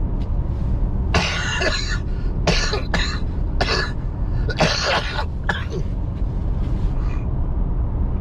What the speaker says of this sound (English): That cough that you saw there is from a cold that I had this weekend.